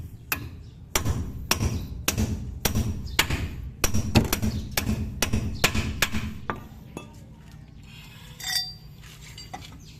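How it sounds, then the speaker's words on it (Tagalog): Hammer blows on the king pin of an Isuzu NHR truck ring out as sharp metallic strikes, about a dozen in quick steady rhythm, close and loud, then give way to quieter clinks and scraping. "Pupukpukin natin yan."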